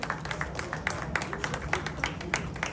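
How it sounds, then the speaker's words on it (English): An audience at a journalism awards ceremony applauds an honoree, steady clapping from a crowd that carries on throughout at moderate volume, with a faint murmur of voices underneath. "Shall we do a big round of applause for him once more?"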